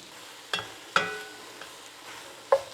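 Spoon scraping and knocking in a pan as tomato paste is stirred into browned sloppy joe ground meat, three distinct clinks over a faint background hiss.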